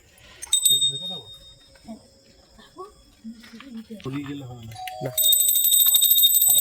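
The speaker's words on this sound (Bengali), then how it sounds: "কলিং বেলটা বাজা, কলিং বেলটা বাজা।" A doorbell rings out near the end as a loud, sustained electronic tone of several bright repeated pulses, following a stretch of voices talking.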